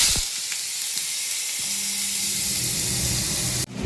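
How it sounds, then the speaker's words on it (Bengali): Sweet potato with some ordinary potato frying in hot oil, a loud, even, hissing sizzle with a few faint stirring knocks, dropping briefly just before the end. "এই যে মিষ্টি আলুটা ভাজা করব"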